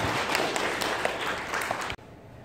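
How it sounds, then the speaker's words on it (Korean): An audience at an art auction breaks into dense, loud applause after a winning bid, many hands clapping steadily for about two seconds before it cuts off sharply. "자, 박수 한번 주시죠"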